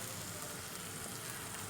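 Ginger frying in a pan, a steady faint hiss of sizzling oil running evenly throughout without pause.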